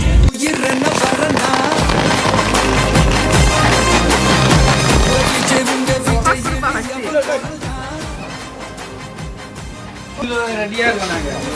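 Firecrackers burst in rapid, crackling volleys during a celebration, loud and dense with sharp repeated pops, thinning out toward the end with scattered bangs.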